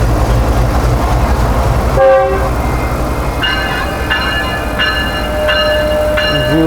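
A train moving on the up track toward Karachi, on a Pakistani rail line, rumbles steadily and loudly with wheel and carriage noise, and a few short tonal horn or signal blasts repeat in the second half.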